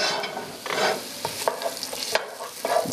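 A whole onion stirred in a pot for cauliflower soup, with repeated scraping strokes and a soft frying sizzle underneath, close and moderately loud, no talking.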